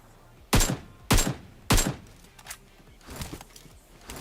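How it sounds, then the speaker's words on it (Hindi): AKM rifle in PUBG Mobile fires three sharp, loud single shots about half a second apart, followed by fainter distant shots and thuds, with no talk. "बस 2 गोली पेलनी है मैंने उसे"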